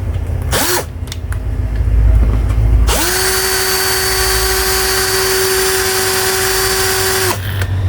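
A 20V cordless drill, either a Soarfly or a PyrosX, spins up and runs at a steady loud whine for several seconds before stopping, with a short burst at the start.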